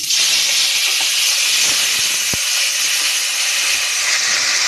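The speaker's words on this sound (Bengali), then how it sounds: "দিয়ে দেবো এবার টমেটো কুচি, আদা বাটা, কাঁচা লঙ্কা। এই তেলের উপরে দিয়ে দেবো।" Chopped tomato, ginger paste and green chilies hiss steadily in hot oil over whole cumin, a loud, even sizzle with a couple of faint utensil taps, no voices.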